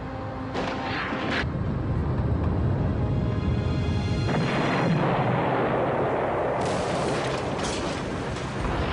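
A Chernobyl reactor explosion in a documentary appears as a sustained, dense roaring rumble with sharp blasting bursts, loud and continuous throughout with no clear break.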